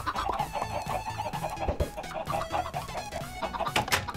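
Chickens cluck in the video game Minecraft, a steady run of short, repeated clucks over a busy mix of game sounds and background music.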